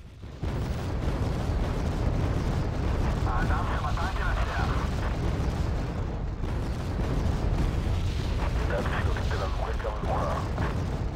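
Artillery firing in the wargame Wargame: Red Dragon, a dense, continuous rumble of booms and bursts that runs under someone talking throughout.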